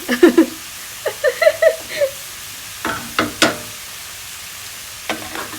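Sweet and sour chicken with cucumber, pepper and onion stirred in a frying pan over low heat, heard as short scraping and clattering bursts of the utensil against the pan, coming in irregular clusters with quiet gaps between.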